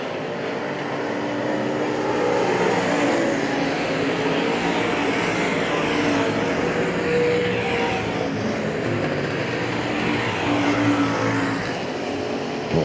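Race cars circling the dirt oval at Hagerstown Speedway, a sustained roar of engines that swells and fades as the pack passes, loud and continuous with no voices over it.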